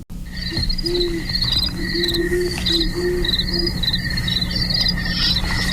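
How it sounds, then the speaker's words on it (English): Low, soft great horned owl hoots repeat in short series over a constant chorus of chirping crickets on a quiet night. "Hanging out with the great horned owls tonight."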